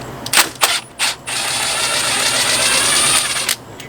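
A cordless screw gun backs screws out of an RV slide-out, a couple of short whirring bursts followed by a long, steady high-pitched drill whine that runs for several seconds before stopping.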